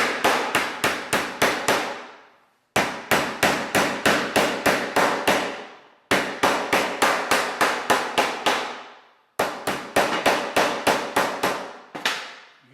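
A hammer drives a Cummins main seal installation tool into place on the engine's rear main seal, a run of sharp ringing metallic blows in quick bursts of about six to eight, pausing between sets, loud and close.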